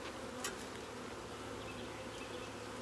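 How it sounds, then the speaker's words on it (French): Honeybees hum in a continuous close drone while a beehive nucleus is opened and frames are handled, with a faint brief clink early on. "J'ai beaucoup d'abeilles sur ma languette."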